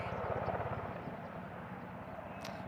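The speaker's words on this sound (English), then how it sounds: "a helicopter comes over the top and halts the game" A helicopter passes over a cricket ground in Barcelona, Spain, its rotor giving a steady low, rapid chop under a constant engine drone, fairly faint and distant throughout.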